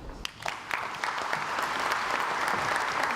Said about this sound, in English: I'd like to ask you to give a nice round of applause to Tim Holcomb